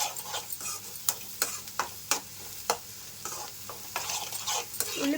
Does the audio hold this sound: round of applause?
no